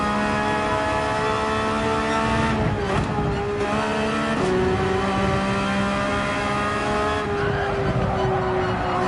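A race car engine screams continuously in the Gran Turismo 7 video game on the Dragon Trail circuit, its loud, steady whine dipping and climbing through gear changes and braking, with faint tire noise and no talk.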